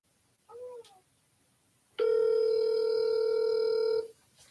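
A cold-call phone line gives a brief quiet blip, then a loud steady dial tone holds for about two seconds before cutting off, with no voices.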